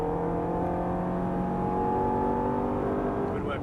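A race car on a track accelerates out of a corner, its engine drone rising steadily in pitch under a constant whir, close and moderately loud.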